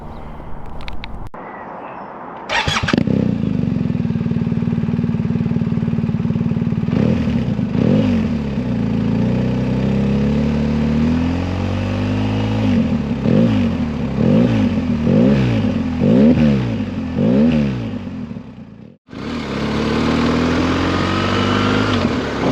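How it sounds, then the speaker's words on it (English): BMW R 1250 GS motorcycle fitted with an Akrapovic exhaust, riding along a road: a loud, close engine note that rises and falls through repeated revs and gear changes, with a brief cut near the end before the engine resumes. "There we see the Akrapovic exhaust, which has been singing nicely as we go along the road."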